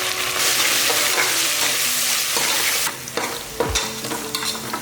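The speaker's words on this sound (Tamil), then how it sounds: "பாருங்கள், வெங்காயம் இந்த அளவுக்கு நல்லா வதக்கிடணும்." Onions with mint and coriander sauté in hot oil for a pressure-cooker chicken pulao, a steady close sizzle with stirring scrapes and a few clanks of the spoon against the pan.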